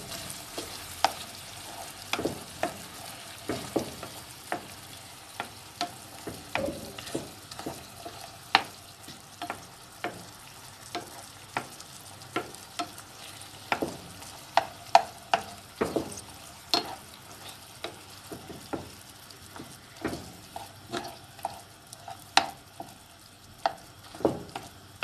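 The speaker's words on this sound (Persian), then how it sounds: "رب هم اضافه کردم، یه مقدار تفت میدم تا رنگ ربمون باز بشه" Tomato paste being stir-fried in a pan for Qeymeh, a soft continuous sizzle punctuated by frequent sharp scrapes and taps of a utensil against the pan, steady and close.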